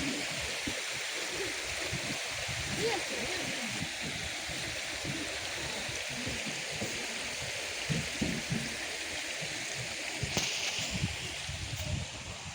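Snowmelt stream and a low-flow waterfall at Huanglong in Sichuan, a steady rushing, splashing wash of water close by, continuous and fairly loud with no voices.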